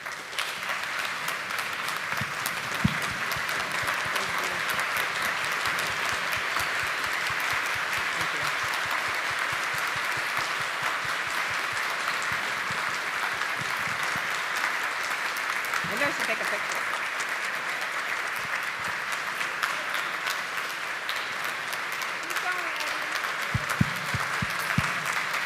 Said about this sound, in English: thanking Ellen with a long and loud and standing round of applause for her